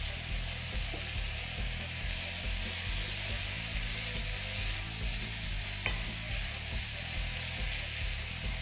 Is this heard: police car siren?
no